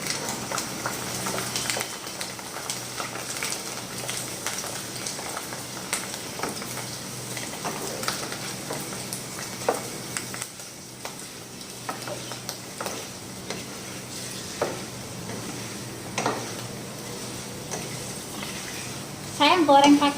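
Food frying in oil in a small pan, soft steady sizzling with occasional stirring clicks and utensil ticks, a voice talking over it throughout.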